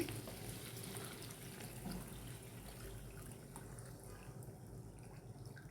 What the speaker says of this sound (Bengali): এই পর্যায়ে আমি পানিটা দিয়ে দেবো এখন।